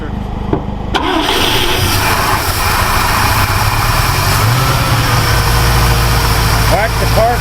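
A 1960 Ford Falcon Ranchero that sat unused for 20 years cranks, catches and settles into a loud, steady, rough idle, close up, running continuously throughout.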